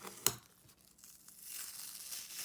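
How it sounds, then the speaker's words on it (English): Tape peeled away from the top of a handmade double diamond friendship bracelet, one sharp rip followed by soft crinkling and a faint rising rustle, close and quiet with no voices. "you want to take off the tape at the top"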